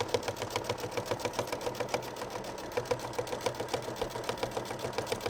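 A domestic sewing machine stitches a free-motion quilted circle, its needle clattering in a steady, rapid rhythm of even beats throughout, close and moderately quiet with no talking.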